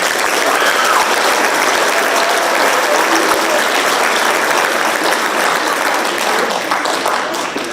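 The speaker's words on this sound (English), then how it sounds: "so let's give them another round of applause." Sustained, dense applause from a large banquet crowd honoring a high school FFA chapter officer team, steady and loud throughout before easing slightly at the end.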